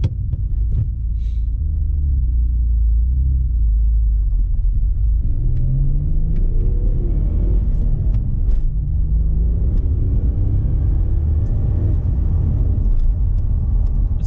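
A Mitsubishi VR4 drives hard with a deep, loud engine rumble that rises in pitch as it accelerates, dips at a gear change, then climbs again, heard from inside the car.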